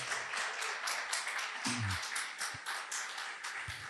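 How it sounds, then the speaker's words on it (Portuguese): Church congregation applauding, with a rhythmic patter of fairly soft hand claps rising and falling for several seconds and a few sharper taps standing out. "Aplauda o Senhor Jesus bem forte."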